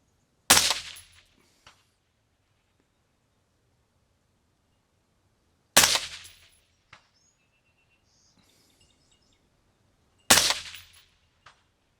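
Three sharp, loud rifle shots from a PRI MK12 Mod 0 firing .223 at a 1,000-yard target, evenly spaced several seconds apart, each with a short decaying echo and faint distant impact afterward; birds chirp faintly between.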